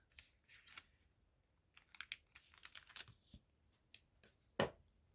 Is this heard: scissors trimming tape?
yes